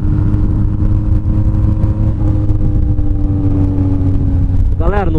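A Honda CB 1000R motorcycle with a straight exhaust runs close by, its engine holding a loud, steady, rumbling drone with a brief rising rev near the end.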